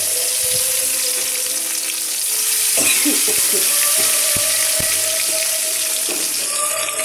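Whole tomatoes frying in a kadai with panch phoron spices, making a loud, constant close-up sizzle and hiss, with a few light clinks of a utensil against the pan.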